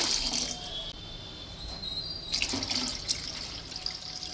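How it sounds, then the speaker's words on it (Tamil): Two litres of water run and splash into a cooking pot, pausing briefly then resuming with a gurgling pour, fairly close and steady. "2 லிட்டர் தண்ணி ஊற்ற போகிறேன்"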